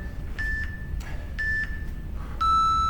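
A workout interval timer beeps during a fitness session: two short tones a second apart, then a longer higher beep, loud and clear over a low hum.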